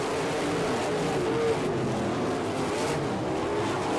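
410 sprint cars and econo sprints racing on a dirt oval at Fremont, Ohio: a dense, continuous engine roar from the pack, loud and sustained throughout with no break.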